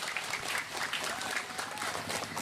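An audience claps steadily in a dense burst of applause during a Ramadan religious talk, filling the short moment without pause.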